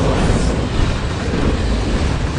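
A commuter train runs steadily, a loud, dense, continuous rumble and rattle of wheels on track with no voices, as in the film The Commuter.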